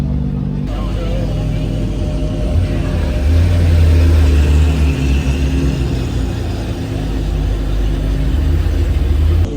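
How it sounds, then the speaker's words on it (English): Lamborghini Revuelto supercar pulling away at an outdoor supercar show, a loud low engine rumble swelling mid-clip then easing, mixed with crowd chatter and other car noise. "Revuelto over there, you can clearly hear it is leaving"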